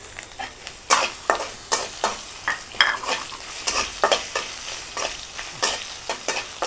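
Crushed garlic with fennel seeds and spices fries in a pan with a soft continuous sizzle, while a utensil scrapes and stirs in repeated sharp strokes about once a second.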